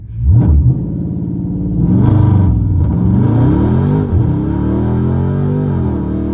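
A Dodge Hellcat's engine is held at high revs with the pedal floored for launch control: a loud, close, steady roar that swells twice early on, then settles into a sustained drone with pitch wavering, no talk.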